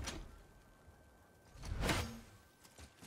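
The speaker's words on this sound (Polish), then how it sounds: "No i drzwi mamy otwarte." A door slides open in God of War (2018), giving a soft whooshing scrape that swells to a clear peak midway, then fades as a quiet background hum continues.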